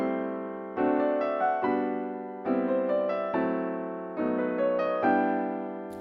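On piano, a melody is played over chords voiced as close inversions, sustained chords that strike anew every second or so and ring out and fade between changes, clear and close with no voice.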